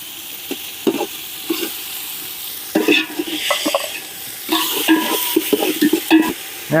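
Crushed ginger and garlic fry and sizzle in a pan of oil for potato mutton sukka, with a steady sizzle broken by repeated stirring scrapes and clatters, loud and close, and no talk.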